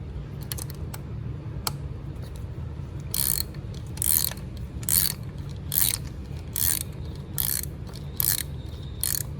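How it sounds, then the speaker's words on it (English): Hand ratchet working a bolt loose on a car under a build, a run of quick, sharp clicking bursts in a steady rhythm, close and clear, with no talk over it. "go back to the ratchet again"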